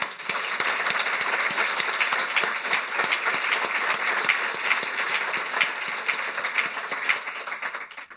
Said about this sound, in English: please help me in thanking them through a round of applause